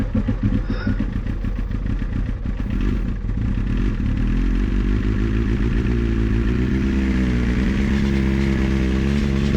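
A 1998 Kawasaki ZX9R motorcycle cranks and fires without choke after a rebuild, the engine rumbling and struggling unevenly close by before settling into a louder, steadier run.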